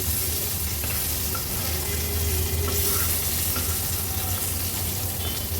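Sole fish sizzles and crackles steadily in hot oil on a griddle, a close, continuous frying hiss with no voices.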